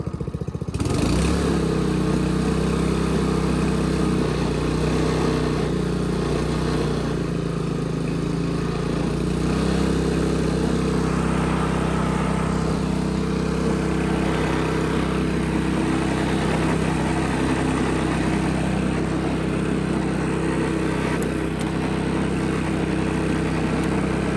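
A Honda Harmony lawn mower engine with water in the gas idles steadily and loud at close range, a continuous low droning hum that holds even throughout, with no talking.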